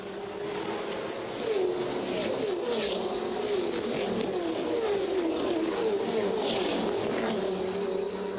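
Supercars race cars roar down to turn 1 at the start of a 2021 race, a dense pack of high-revving V8 engines with rising and falling pitch sweeps as they pass, loud and continuous with no talk.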